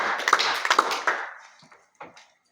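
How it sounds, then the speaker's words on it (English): Audience applause honouring a newly elected board chair, a burst of hand claps that swells briefly and then thins out, with a few scattered claps trailing off at the end. "Please let us celebrate her with a big round of applause"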